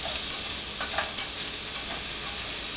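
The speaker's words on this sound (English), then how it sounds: "now you can kind of hear it sizzling" Close, steady sizzling hiss of garlic frying in a pan, with a few brief stirring scrapes over it.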